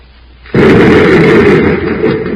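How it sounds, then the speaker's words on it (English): Spaceship rockets fire in a vintage radio drama as a sudden loud blast that swells into a sustained roaring rush. It holds steady and close, filling the air with no voices over it. "Happy, fire rockets."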